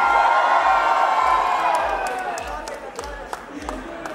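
A wedding crowd cheers and claps for a young performer's solo, a loud broad roar at first that gradually fades into scattered clapping and whoops.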